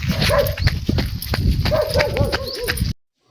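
A dog barks repeatedly in short bursts, fairly close, over a busy outdoor background with other clattering noises.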